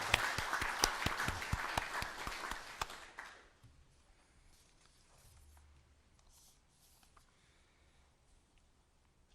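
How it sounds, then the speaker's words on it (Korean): Participants at a presidential senior secretaries' meeting clap together in a brisk burst of overlapping claps for about three seconds, then the room drops to a quiet hush. "다들 박수 한번 치고 시작할까요?"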